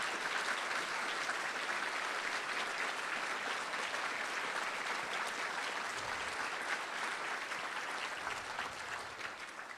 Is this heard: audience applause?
yes